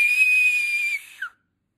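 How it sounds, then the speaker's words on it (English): A strong, shrill whistle blown through the lips, one sustained loud piercing tone lasting about a second, ending in a brief softer chirp, then silence; no talk. "A whistle in your lips. A strong whistle"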